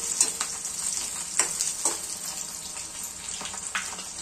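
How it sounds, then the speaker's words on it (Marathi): Chopped onion fries in a pan for a leafy greens and moong dal dish, a continuous close sizzle broken by scraping stirs and clinks at irregular intervals, with no talk. "थोडासा कांदा लालसर फ्राय होऊ द्यायचा"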